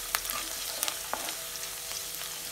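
Garlic fries in hot oil and is stirred, giving a steady soft sizzle with occasional sharp clicks and scrapes from the spoon, at low level with no talking.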